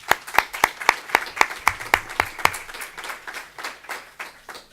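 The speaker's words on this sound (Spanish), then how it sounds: "podemos recibir ya con el aplauso" Audience clapping at the opening of a university faculty welcome day, starting as crisp synchronized rhythmic claps at a steady beat, then loosening into a fading scattered applause.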